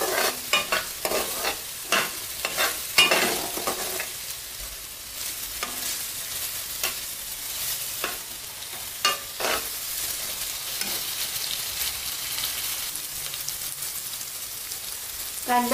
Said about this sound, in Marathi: कांदा 2 ते 4 मिनिटं मी चांगला परतून घेतलेला आहे.